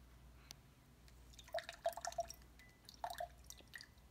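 Water slowly drains through biochar, with faint, close, irregular drips and small splashes clustering in a few quick bursts over quiet background hiss.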